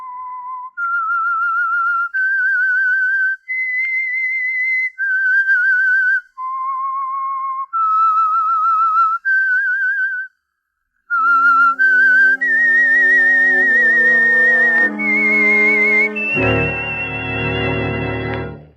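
A clear, melodic tune is whistled alone in steady sustained notes, the opening theme of a 1947 radio drama, and an orchestra swells in underneath toward the end.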